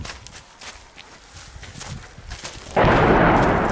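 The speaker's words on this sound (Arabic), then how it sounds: "قصف مستمر إلى الآن منذ أكثر من 3 شهور" Artillery shelling in the Al-Arfi district of Deir ez-Zor city sounds as a sudden loud blast near the end, after a stretch of quieter scattered thumps and rumbling background noise.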